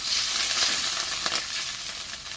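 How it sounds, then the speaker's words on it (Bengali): Ground spice paste with ginger and garlic hits hot oil in a frying pan, giving a loud, continuous hissing sizzle close by with one brief clink partway through. "এখন যে মশলা বাটা দিই"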